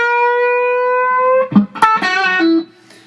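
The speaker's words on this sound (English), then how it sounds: "he would play the first bend all the way up" Electric guitar playing blues string bends, a long sustained bent note answered by a quick call-and-response phrase of shorter bent notes, loud and close with no talking.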